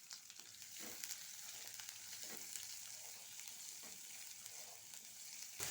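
Chopped onion sautés in hot oil for a bitter gourd tamarind curry, giving a steady close sizzle dotted with small crackles and pops, with no talking.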